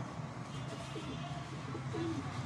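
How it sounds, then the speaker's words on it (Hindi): A pigeon held for breeding coos softly a couple of times over low background noise, brief throaty calls heard at moderate distance. "ये चेक करें कबूतर।"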